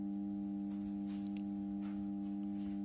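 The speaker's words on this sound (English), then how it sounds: "Now the noise intensity in the transformer is increased" A transformer hums steadily from magnetostriction, a pure tonal drone with strong harmonics, after its noise intensity has increased on reduced turns. Faint incidental clicks and shuffles sit over the constant hum.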